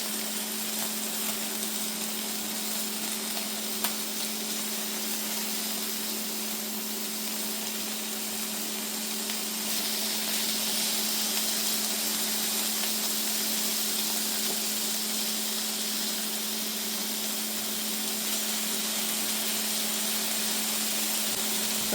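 Lamb browns in a frying pan with a steady, even sizzle and hiss that runs continuously without talk.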